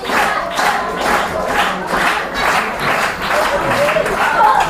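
Wrestling crowd at a UK independent show cheering and clapping throughout, a steady dense roar of voices and applause rising and falling in waves without a break.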